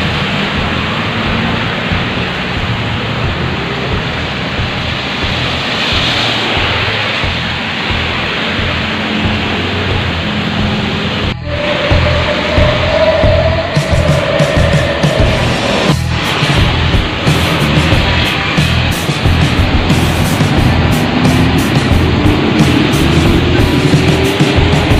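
Heavy rain pours down in a steady, loud broadband wash with no letup, with a few brief sharper bursts partway through.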